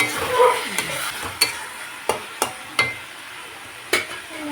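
Katla fish curry being stirred and sautéed with potatoes in a pan: a low, steady frying sizzle broken by several sharp spatula knocks against the pan at irregular intervals, close by with no talk.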